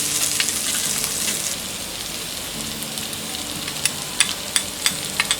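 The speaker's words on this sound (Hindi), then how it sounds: "इसे हम लो फ्लेम में फ्राई करेंगे। हमने 5 मिनट तक लो फ्लेम में सारे वेजेस को फ्राई कर लिया है।" Vegetables for foxtail millet upma frying on a low flame, an even close sizzle with soft bubbling, and a few sharp pops and crackles toward the end.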